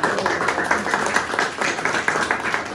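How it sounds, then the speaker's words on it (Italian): Audience applause for a guest named Danny at a literary salon in Brera, a steady dense patter of many hands clapping fairly close, without a break for the whole stretch. "un applauso facciamo a Danny"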